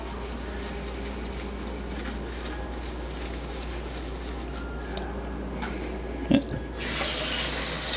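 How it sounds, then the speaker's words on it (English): A kitchen knife blade is hand-washed under a running tap: a steady, close rush of water with a single faint clink, swelling into a louder splash at the very end. "you're probably washing your knife blade the way it wants to be washed"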